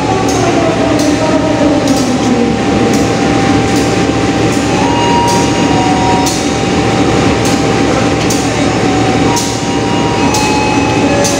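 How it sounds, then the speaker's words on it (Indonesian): Erlangga passenger train bound for Pasar Senen pulling out of a station: a continuous loud rolling rumble with periodic rhythmic clacks of wheels over rail joints, sustained and close. "Kereta api Erlangga dengan tujuan Pasar Senen akan diberangkatkan terlebih dahulu."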